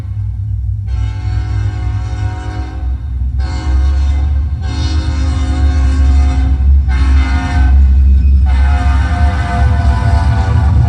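A train sound effect plays from a Yamaha Genos keyboard: a loud, steady low rumble of rolling wheels, with repeated horn blasts in bursts of a second or two each.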